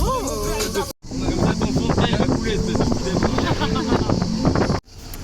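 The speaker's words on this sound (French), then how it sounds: "j'ai vraiment le vent dans la gueule" Wind buffets a microphone outdoors beside a Mediterranean Italian restaurant on a seaside holiday, a steady loud broadband rumble and roar lasting several seconds, cutting out briefly near the start and again at the end, with faint voices and activity underneath.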